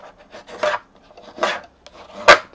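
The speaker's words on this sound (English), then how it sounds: "bring my bone folder and burnish it" Bone folder burnishing along a scored card fold gives short dry rasping rubs in a few uneven strokes, close and fairly loud, the last stroke the sharpest.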